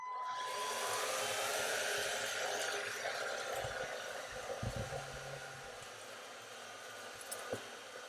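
An INSE S610 cordless stick vacuum with a brush attachment hums steadily at close range, its motor whine constant while faint bumps and scrapes of the brush against the floor surface under it.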